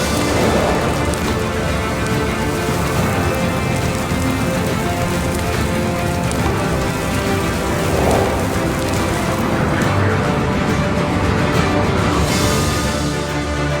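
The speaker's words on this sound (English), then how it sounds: "I was about to simulate a sandstorm." A sandstorm simulated in an aquarium tank, heard as a loud, unbroken hiss and patter of blowing sand like heavy rain, steady throughout with no pauses.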